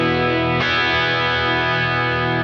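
An electric guitar played through a Quad Cortex modeler rings out with a bright, jangly chord, sustained and loud, restruck once early and then left to ring with a shimmering top end.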